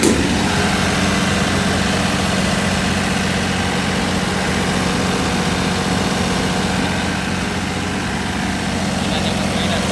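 A pressure washer engine runs steadily, a loud, continuous low rumble with a constant hum close by that barely changes over the whole stretch.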